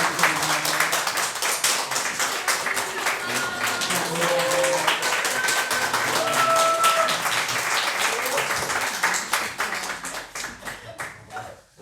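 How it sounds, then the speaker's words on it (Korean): A church congregation at a Sunday service breaks into sustained, dense applause, many hands clapping together at full volume for around ten seconds before thinning out and fading near the end. "여러분 큰 박수로 또한 격려해 주시면 감사하겠습니다."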